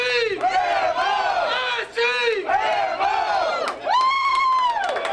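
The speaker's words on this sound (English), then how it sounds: "the restaurant was pretty rowdy tonight as the SEMO faithful cheered on their team" SEMO men's basketball fans at a First Four watch party inside a Cape Girardeau wings restaurant cheer and chant loudly and continuously, many voices rising and falling in waves, with a sharper shout near the end.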